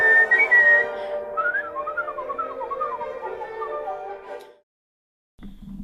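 A person whistles a wavering, tuneful melody with sliding pitches for several seconds, then stops; after a short silence a low hum begins.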